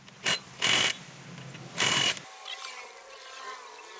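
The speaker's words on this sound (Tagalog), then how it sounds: "Ito pong nut sa kanyang drive piece pulley. At gumamit lang po tayo ng 22mm na socket." A 22mm socket on a ratchet works the drive pulley nut of a Honda Beat scooter, giving three short, close mechanical clicking bursts followed by faint quiet rattles.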